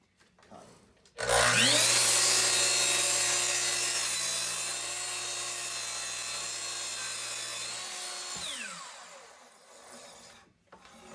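A hand saw cutting wood for a wooden horse, with the piece clamped against a jig lip; a loud, steady rasping stroke runs for about seven seconds, then stops.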